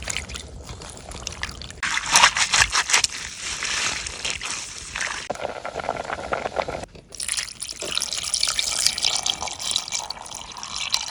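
Water is poured and sloshed in a bowl to wash termite mushrooms in salted water outdoors by a forest stream, a close, continuous splashing and trickling with surges of heavier pouring.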